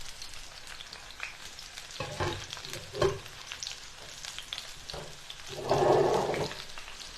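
Arctic char fries in a pan with a soft continuous sizzle, broken by a few clatters and stirring knocks, then a louder hissing burst near the end as the pan is moved.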